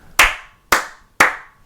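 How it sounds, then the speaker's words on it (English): Three loud, sharp hand claps ring out close by, evenly spaced about half a second apart, each a crisp snap with a short decaying tail in an otherwise quiet room. "Actually, I don't really use it much for the kids. I use the clap"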